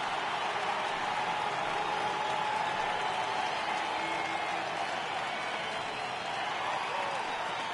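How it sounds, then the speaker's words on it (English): A baseball video game stadium crowd rises and roars for a full 3-2 count, a steady, broad cheering wash that holds evenly for several seconds with no voices over it. "Crowd gets up for the 3-2."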